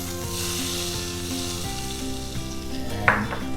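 Hot ghee tempering poured over chicken pepper curry sizzles loudly and steadily throughout, with a brief sharper crackle near the end and faint stirring; no speech.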